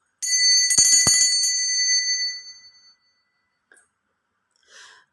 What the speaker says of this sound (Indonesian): saya akan memulai dengan tanda lonceng berbunyi untuk memulai suatu kata ramalan ya